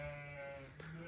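A single sheep bleats close by during the spring lambing season on a snowy steppe farm, a short wavering call over faint background noise.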